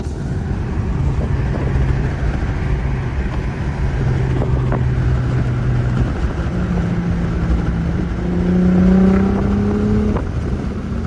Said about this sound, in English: I'm gonna downshift, so I hope you guys can hear this pop